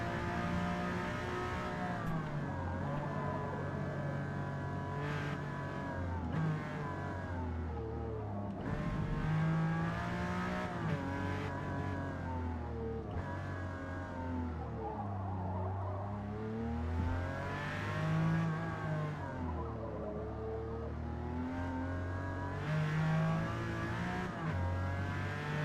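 A racing car engine in Gran Turismo 7 revs hard and loud, rising in pitch through repeated gear changes, with each shift dipping and surging again across a long continuous run.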